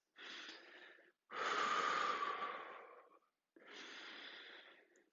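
Breathing exercise during a gentle gym class: three long, breathy exhalations and inhalations, the middle one strongest, separated by short silences, close and fairly soft with no talking.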